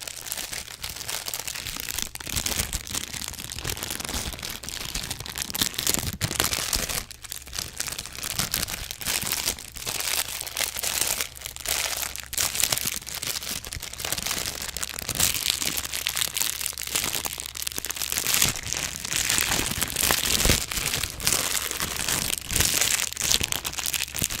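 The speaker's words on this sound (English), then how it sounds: "So for the last few crinkling sounds, more plasticky ones." Plastic crinkled continuously close up, a dense, busy crackle with small crunches and brief pauses, loud against quiet surroundings and no talking.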